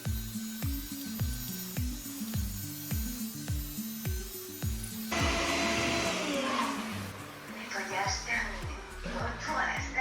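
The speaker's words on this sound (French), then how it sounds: "je vais lui faire un deuxième tour d'aspiration" A Yeedi Vac Max robot vacuum cleaner runs with a steady whirring hum and rhythmic mechanical ticking, heard close, with a louder airy suction burst partway through; a voice talks over it.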